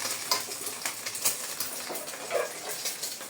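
Leftover egg frying in a pan, a steady soft sizzle with faint scattered clinks of utensil against the pan, fairly quiet and close, no talking.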